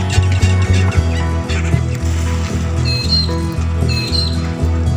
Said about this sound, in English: That's for the seagulls who are scavengers.